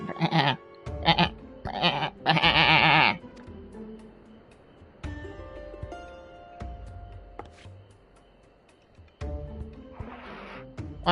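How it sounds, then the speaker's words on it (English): A sheep in Final Fantasy XIV: Endwalker bleats in several loud, quavering cries in quick succession, then gives way to quieter game ambience and music tones, with one more brief burst near the end. "This sheep looks eager to share something with you."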